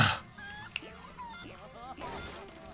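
A chicken in a sewer in the Ed, Edd, 'n' Eddy: The Mis-Edventures video game: several short, close clucks with a sharp click among them, set against quiet game background.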